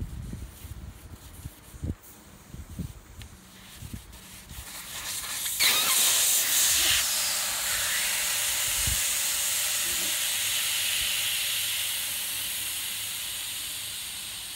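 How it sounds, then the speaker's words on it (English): Air rushing out of a Ural motorcycle tire through the valve once the core is pulled, a loud steady hiss that starts sharply midway and carries on to the end, after some quiet handling clicks and knocks. "now that the air is out of the tire"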